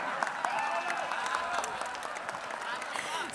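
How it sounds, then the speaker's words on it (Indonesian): An audience applauds Prabowo Subianto, presidential candidate number 2, at a Kadin dialogue event, with steady dense clapping and cheering that rises toward the end, and a voice talking over it. "Sekali lagi berikan tepuk tangan yang meriah untuk calon presiden nomor urut 2, Prabowo Subianto"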